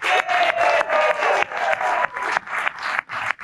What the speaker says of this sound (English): Give Sarah a big cheer